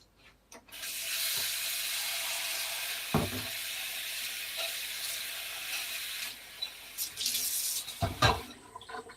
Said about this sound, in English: just doing a little washing up while I can too